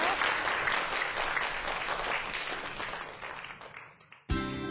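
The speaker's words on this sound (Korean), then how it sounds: "오세광 교수님 박수로 보내드리도록 하겠습니다" A lecture audience gives the professor a sustained round of applause, dense and fairly loud, fading slightly toward the end before an abrupt change to a different sound.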